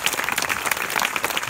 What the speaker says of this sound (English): let's give him a round of applause straight away